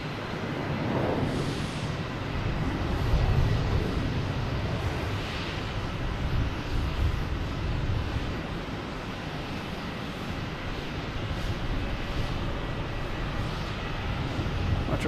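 An Austrian Airlines jet taking off at Boston Logan Airport, a broad rumbling engine roar that holds loud and steady throughout, with some wind buffeting on the microphone and no talking.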